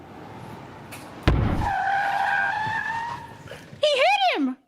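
Car tires skid in a radio drama sound effect, a sharp thud starting a long sustained screech that fades, then a second brief, rising-and-falling squeal at the end, with voices in the background.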